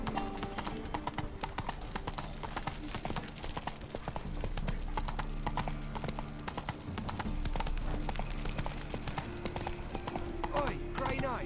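Horse hooves clip-clop in a steady galloping rhythm in the Witcher 3 video game, close and prominent, with game music and a voice talking over them.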